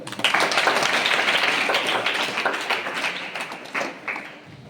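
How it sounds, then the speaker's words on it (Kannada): Children at a birthday celebration clap hands together in a dense, steady burst of applause that fades slightly toward the end, loud and close. "ಎಲ್ಲರೂ ಚಪ್ಪಾಳೆ ತಟ್ರಿ."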